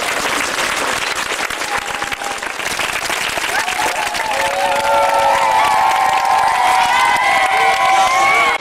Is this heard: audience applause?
yes